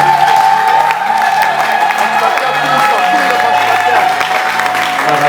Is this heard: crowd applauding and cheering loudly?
yes